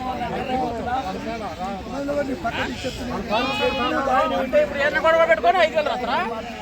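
Sheep bleat repeatedly at a busy livestock market in Macherla, the calls overlapping and close amid steady crowd chatter and people talking throughout.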